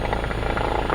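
Small single-engine training airplane engine at full throttle during takeoff roll, a steady loud droning roar with propeller buzz, continuous and close, with no talk over it.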